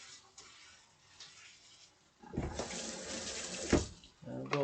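Running tap water rinses soap away in a kitchen sink, starting faint and swelling into a strong, splashy gush, with a brief voice near the end.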